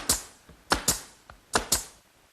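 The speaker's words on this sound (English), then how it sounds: "I can fasten them in place using my brad nailer" Brad nailer driving 3/4 inch brads into the back of wooden rails on a coffee table, five sharp percussive shots in two quick pairs with a single one between, close and loud with no talk.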